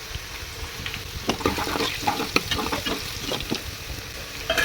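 Oil sizzles and crackles steadily in a pan as crushed garlic fries, with occasional scraping stirs, close up and no one talking.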